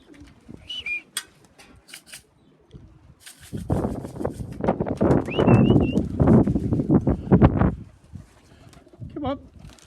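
Young homing pigeons let out of the loft for the first time coo and flap their wings, bursts of wingbeats and soft coos outdoors with someone talking at times.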